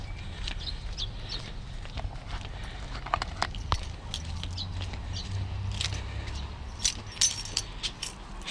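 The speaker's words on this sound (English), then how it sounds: "The keeper of the keys." A bunch of keys jangles and clinks in irregular bursts close by over a steady low outdoor rumble.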